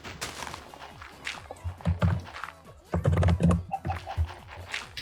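Rapid clicking of keys on a computer keyboard during a Minecraft multiplayer session, irregular bursts of clacks with a few heavier thumps, fairly close.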